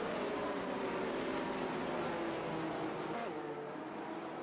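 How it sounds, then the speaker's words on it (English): Safety car circling the Monza circuit in a Schumacher-series racing game, a steady droning engine note sustained throughout, loud and continuous, with a slight pitch shift near the end. "Safety car continues around."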